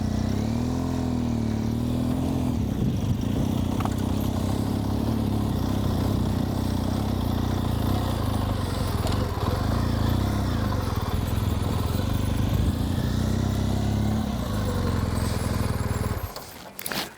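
A BMW motorcycle engine holds on a hill, then gets a little throttle as the clutch comes out, a steady, close mid-pitched drone that rises slightly before cutting off near the end.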